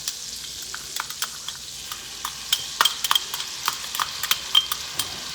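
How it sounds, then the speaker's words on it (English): Garlic sizzles steadily in a frying pan over lowered heat, with scattered scrapes and taps as it is stirred, close and moderately loud with no talking. "First, we're gonna add a little garlic."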